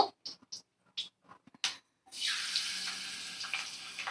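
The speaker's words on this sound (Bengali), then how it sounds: "নুন হলুদ মাখানো মাছগুলো আমি কড়ার মধ্যে দিয়ে দিলাম।" Salt and turmeric coated fish pieces go into hot oil in a wok after a few sharp clattering knocks, then a sudden loud steady sizzle and hiss of frying carries on to the end.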